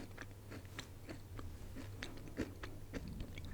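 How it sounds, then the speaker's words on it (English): Crisp crunches from biting and chewing a vegan biscuit, recorded up close and quiet, with a string of sharp cracks spread over a few seconds. "Can you hear the biscuit crunch?"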